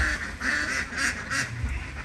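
Many ducks quack in repeated bursts on a Thai duck farm of about 800 birds kept in a shed, the calls loud and close, overlapping in a steady chorus with no talking.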